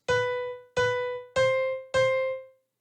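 Four identical bright electronic piano notes from an FL Keys dance piano preset sound in an even rhythm, each ringing briefly before the next, then a short fade to silence.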